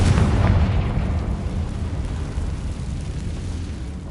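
A Confringo blast spell explodes in Hogwarts Legacy, a loud booming burst with a deep rumbling tail that fades slowly, alone without talk.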